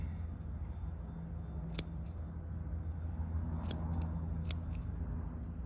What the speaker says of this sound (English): Oh, the scissors are getting gritty.